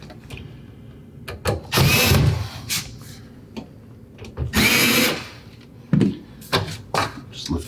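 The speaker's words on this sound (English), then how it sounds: "So I'm just going to back the screws off a little bit." A power driver backs the screws part way out of the overlay panels on a Fulgor Milano built-in fridge and freezer column, giving two sustained whirring bursts and a shorter third, with someone talking in between.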